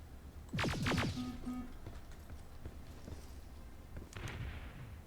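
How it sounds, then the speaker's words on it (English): Video game explosion in Terminator: Resistance, a sharp booming burst with crackling debris early on, then a fainter secondary blast near the end over low rumbling background. "I really thought I was far enough away from that explosion."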